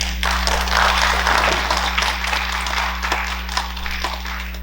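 Conference audience at an academic society meeting gives a dense, loud wash of applause that holds steady for several seconds, over a low electrical hum.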